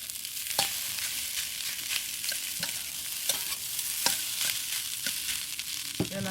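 Shrimp and egg are stir-fried in a wok for kimchi fried rice, giving a steady bright sizzle punctuated by regular sharp scrapes and clacks of the spatula against the wok.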